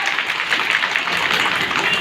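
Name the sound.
applause from the audience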